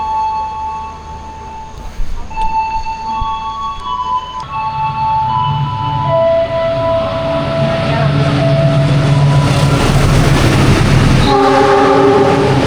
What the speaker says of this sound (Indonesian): Meluncur lintas langsung di stasiun Jatibarang